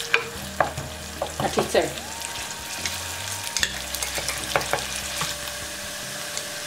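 Onion frying in a pot for a Serbian bean stew with ham hock, a steady sizzle with scraping stirs and clatter, heard up close with a brief spoken word.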